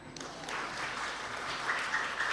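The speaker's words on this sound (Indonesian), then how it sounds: "tepuk tangan." An audience applauds at a school graduation and farewell ceremony, a dense steady wash of many hands clapping at moderate distance, continuous throughout with no speech over it.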